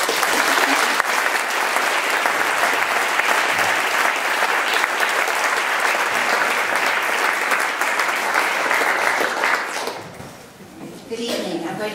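A lecture-hall audience at a University of Toronto science lecture applauds in welcome, a loud dense wash of clapping that holds steady for about ten seconds before fading, followed by a few quiet sounds.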